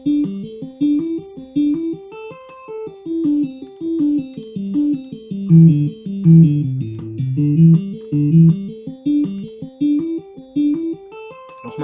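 An electric guitar with an effects unit plays pentatonic runs of six notes per three beats, rising and falling in an even rhythm, with a faint metronome ticking along; no talking.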